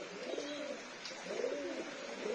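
Pet pigeons coo softly in a loft, two low rolling calls repeating against faint background noise.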